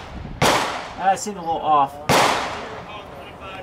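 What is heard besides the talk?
Mosin-Nagant M91/30 rifle shots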